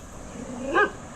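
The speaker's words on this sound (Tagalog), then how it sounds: "Tahol-tahol ka dyan, mukha ka namang mabait eh." A dog on a quiet rural roadside in the Philippines gives a single short, rising whining bark, fairly close and clear against faint background noise.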